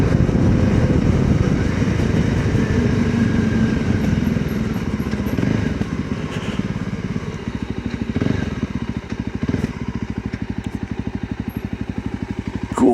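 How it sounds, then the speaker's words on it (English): A VOGE 300 Rally motorcycle's exhaust gives a steady, throaty brap while riding, continuous engine drone with gear changes and wind rush close to the rider. "Just that nice brap from the exhaust."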